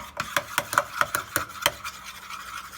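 A spoon stirring Turkish coffee grounds and water in a small pot before heating, a quick series of about eight scraping, rasping strokes that fade away toward the end, close and without any talk.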